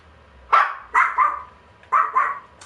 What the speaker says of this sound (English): Isn't that cool having a dog barking in the background?